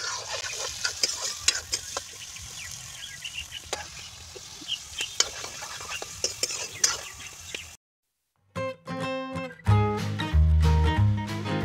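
Vegetables frying and being stirred in sweet oil for Maggi noodles, a steady scrape and sizzle close by for most of the stretch, then broken off by a short silence and loud music.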